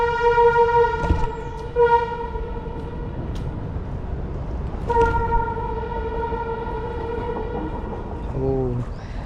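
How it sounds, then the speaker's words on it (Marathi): A Konkan Railway train passes hidden in dense forest near a tunnel by the Ranpat waterfall, with a steady loud rumble and several sustained horn blasts. "ट्रेन दिसून तर नाही आला, पण ट्रेनचा आवाज आला"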